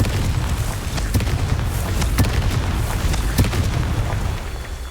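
An explosive Confringo spell in Hogwarts Legacy gives a rumbling boom with crackling bursts that sustains for several seconds, loud and close with no voices.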